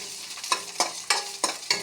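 Onion fries lightly in hot oil in a wok over a soft sizzle, broken by about five sharp, rhythmic scraping strokes as it is stirred, close and without talk.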